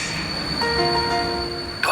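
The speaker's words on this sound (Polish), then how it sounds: "Wtem słyszymy kół stukoty i lokomotywy świst" A train's wheels clatter along the rails with sustained whistle-like tones ringing over the rumble, moderately loud and steady for a moment before a sharper burst at the end.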